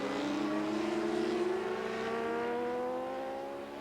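Racing motorcycles at the 1993 Daytona 200 produce a loud, high-pitched engine howl that climbs through the revs, then eases and fades slightly at the end, with no commentary heard.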